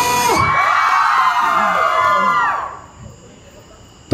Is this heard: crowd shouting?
yes